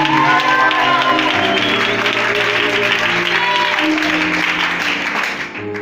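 A church congregation applauding loudly: dense, sustained clapping fills the room throughout, mixed with raised voices and tonal sound underneath, fading slightly at the end.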